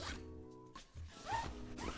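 Several quick zipper pulls close by as a bushcraft backpack's side pocket is zipped, with rasping strokes separated by short pauses.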